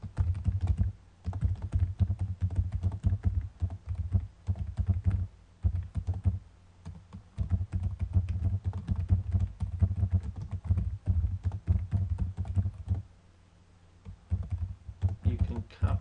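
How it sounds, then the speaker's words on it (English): Someone types a short email on a computer keyboard, with steady runs of close key clicks and brief pauses throughout. "I'll type out a short email."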